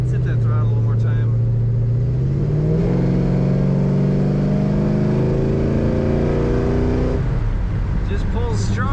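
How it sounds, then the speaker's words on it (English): A 1971 Chevrolet Chevelle Malibu convertible's engine revs up hard, its tone climbing steadily over several seconds before easing off, loud and close, with no voices over it. "Let's hit that throttle one more time."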